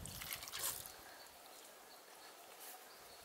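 Water poured into a Dutch oven holding chicken and vegetables, a steady trickling splash with a brighter burst early on, then a continuous close, moderately quiet stream.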